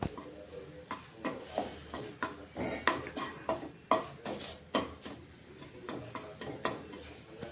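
A spoon stirs milk into thick besan halwa in a pan, making steady rhythmic scraping and clinking strokes, moderately close and fairly quiet, with no voices.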